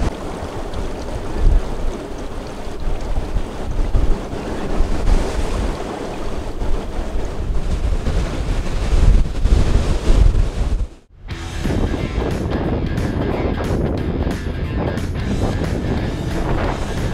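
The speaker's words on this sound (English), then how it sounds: "Can't wait for that wind to drop down." Strong wind roars and buffets across coastal cliffs above the sea, a loud, continuous rush with surf underneath, broken by a brief sudden drop just before the steady blowing resumes.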